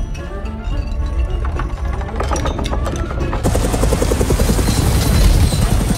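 Helicopter in an animated film, a loud, close rhythmic rotor chop with a heavy low rumble that swells and grows harsher partway through, with no voices.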